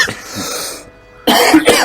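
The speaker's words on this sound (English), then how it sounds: "I've been coughing" A few harsh coughs, then a short pause, then another burst of close, loud coughing.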